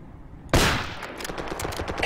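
Automatic gunfire from a technical vehicle in the Project Reality military shooter game: a loud, sudden blast opening a rapid, continuous burst of shots that sustains to the end.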